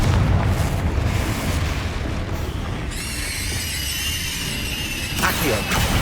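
A Confringo spell explosion in Hogwarts Legacy: a loud booming blast with rumbling debris, then a bright ringing, shimmering magical tone that holds for a couple of seconds before fading.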